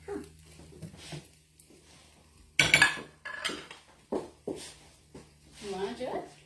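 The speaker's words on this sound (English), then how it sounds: "Mix all of this together, and then we're going to go ahead and add our shrimp to it." Tomatoes and shrimp are stirred together in a pan for gluten-free Mediterranean shrimp pasta, with scraping utensil sounds and a few clanks against the pan. The sounds are close, and quiet voices can be heard in the background.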